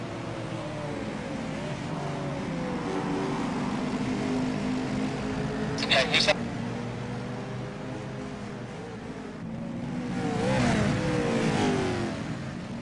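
Race cars run at Infineon Raceway, a steady engine drone with a car passing and revving up loudly near the end, heard from a distance amid broad track noise.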